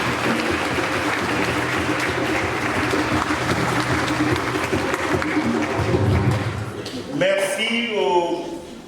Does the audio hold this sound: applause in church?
yes